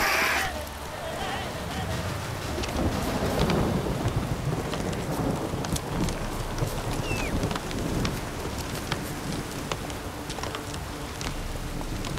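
Heavy rain and rolling thunder in The Witcher 3, a dense steady downpour with deep thunder swelling and fading underneath, and a voice briefly speaking.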